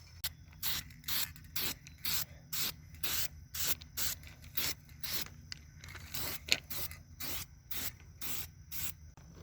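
A spray can paints a go-kart roll bar in a steady rhythm of short hissing bursts, about two per second, close by and fairly loud with brief gaps between sprays.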